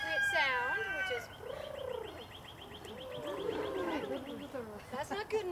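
A person voicing a pigeon's courtship coo, a run of warbling, throaty coos near the microphone with a higher squeaky burst at the start, a human imitation of the bird rather than a real pigeon.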